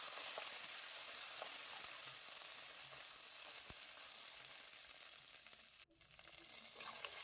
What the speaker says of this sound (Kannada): ಇವನ್ನ ಫ್ರೈ ಮಾಡ್ಕೊಳ್ಳೋಣ